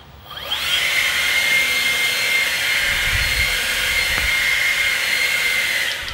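An EGO 56V cordless leaf blower running at its lowest speed outdoors, spinning up with a rising whine and then holding a steady, loud airy whir for several seconds.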